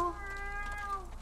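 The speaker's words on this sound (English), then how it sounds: "Why are you meowing?" A cat in the video game The Last of Us gives a short, clear meow, drawn out and fairly near, over a low steady game background hum.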